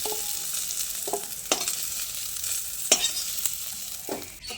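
Cauliflower frying in mustard oil in a wok gives a steady bright sizzle, with a few sharp stirring scrapes and pops breaking through the hiss.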